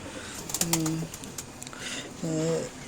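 Homing pigeons coo softly twice, a low throaty call each time, over a quiet background with light rustling.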